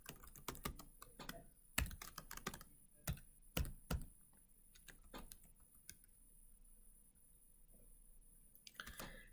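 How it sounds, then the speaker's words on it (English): Bursts of clicky keystrokes on a computer keyboard as training-data points are entered for a robotics machine-learning lesson, several quick clusters of taps with pauses between, close and fairly quiet with no talking. "And I'll type all of those in"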